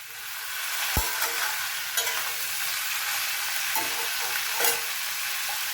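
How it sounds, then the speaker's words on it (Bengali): Mussels and potatoes frying in hot oil with salt and turmeric, for a Malabar spinach dish, are stirred in a pan: a steady close sizzle broken by a few sharp spatula scrapes and clinks. "নুন হলুদ দিয়ে দিয়েছি, দিয়ে ভালো করে নাড়াচাড়া করে নেব।"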